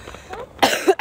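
A single short cough, close and fairly loud, following a faint breathy sound.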